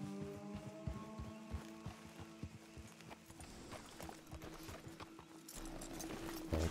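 Horse hooves clip-clopping in Red Dead Redemption 2, several horses walking at an uneven, unhurried pace, moderately close, with game ambience and faint rumbles beneath.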